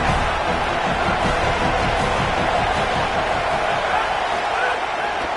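Football stadium crowd roaring in support of the defense on a big third down at an Oklahoma State game, a loud continuous wash of cheering filling the whole clip with no break.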